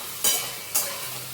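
Sliced ridge gourd sizzles steadily in a hot pan while a spoon stirs it, with two brief scraping strokes about half a second apart against a constant close frying hiss.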